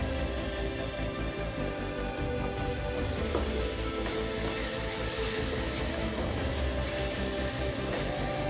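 Onions fry in a pan for egg thokku with a loud, continuous sizzle, and the hiss brightens as ground tomato paste is poured into the hot oil partway through.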